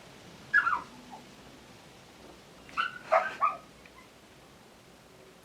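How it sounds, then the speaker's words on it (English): A dog barks in two separated bursts, one single bark and then a quick cluster of three, heard faintly at a distance over quiet background hiss. "I am back again and the dog is barking"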